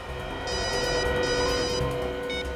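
A telephone rings in a tense crime-drama scene: two or three close, repeated electronic ring bursts over a low background bed, with no talking.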